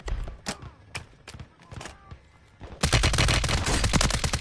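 Rapid automatic gunfire in the Warzone video game: scattered single shots and short bursts at first, then a loud sustained volley of fast repeated cracks filling the second half.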